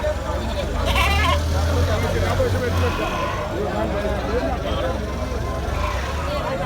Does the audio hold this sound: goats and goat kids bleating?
yes